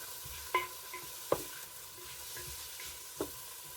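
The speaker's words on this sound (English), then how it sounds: "I'm just going to brown the onions first" Onions browning in a pan, a faint steady sizzle with a few sharp clinks and taps of a utensil stirring against the pan.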